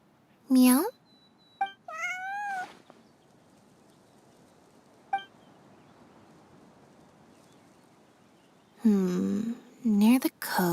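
A cat meows in a video game, several short rising cries spaced apart with quiet gaps between them, close and clear. A voice also says meow in imitation, and there are brief bits of talk.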